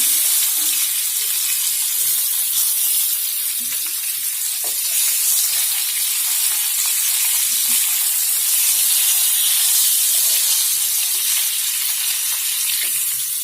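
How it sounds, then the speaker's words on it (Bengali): Hilsa fish pieces fry in hot oil in a pan, giving a loud, constant, close sizzle with steady hissing throughout and no talk. "মাছটা হতে থাকতে হলো তো ফ্রাই করা হয়ে গেছে এখন আমি এগুলো তুলে নেবো"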